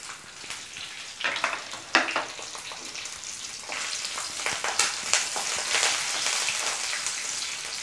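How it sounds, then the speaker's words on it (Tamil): Garlic frying in a pan crackles and spits busily, the sizzle swelling and popping in irregular bursts with occasional stirring sounds, close and fairly loud. "வறுத்துறது வெள்ளைப்பூடு"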